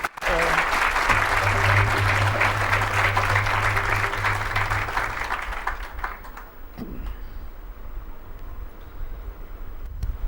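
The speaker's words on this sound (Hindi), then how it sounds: "ताली बजाओ प्रेम के साथ।" Congregation at a devotional gathering clapping along in a steady, loud, dense wash that starts at once and fades somewhat after about six seconds, with a sustained singing or chanting voice underneath.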